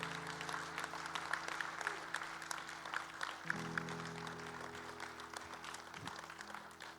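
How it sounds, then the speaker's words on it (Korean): A congregation at a Sunday afternoon church service claps together in a steady, moderately loud patter of many hands, with a low electrical hum running underneath. "박수를 보내고 싶지 않아요?"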